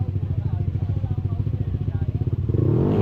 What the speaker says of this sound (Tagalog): Ganda ng mga motor sa harap oh.